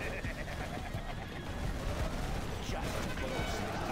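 Dense, continuous gunfire from units in the real-time strategy game C&C Generals Zero Hour, a steady crackle of shots and blasts filling the whole stretch at close, loud level with no pauses.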